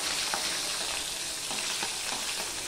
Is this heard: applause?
no